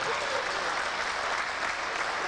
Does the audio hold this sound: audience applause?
yes